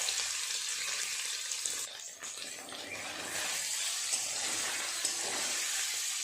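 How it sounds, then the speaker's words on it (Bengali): Paneer pieces frying in hot oil in a pan, a steady close hiss of sizzling that briefly dips, then continues evenly with no voices. "পনিরগুলো ভেজে নেব।"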